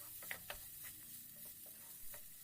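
Carrot pieces fry on a low flame in a quiet, soft sizzle, with a few faint scrapes and taps from a stirring spoon.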